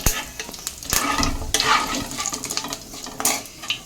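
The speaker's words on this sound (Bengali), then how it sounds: "একটুখানি জিরে দিয়ে দিচ্ছি ফোড়নের জন্য" Cumin seeds tempering in hot oil in a wok give a steady crackling sizzle, with occasional sharp clicks and scrapes of stirring against the pan.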